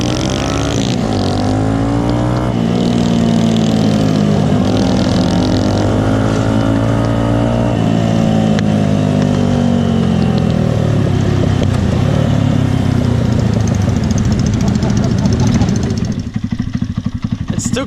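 A custom Honda motorcycle engine at a custom bike gathering, idling steadily and loud and close with a low rumbling drone, with people chatting in the background.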